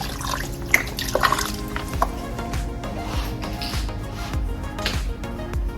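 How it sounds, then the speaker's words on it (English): Stock is poured into a pot of red beans and rice, a continuous close liquid splashing and gurgling with small clinks and knocks scattered throughout. "I'm just going to pour some more in here because you can add this stock as it goes."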